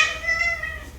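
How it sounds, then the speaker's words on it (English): A house cat lets out one short, clear meow close by, fading quickly into a quiet indoor room with no talking. "my cat is like trying to drink my drink"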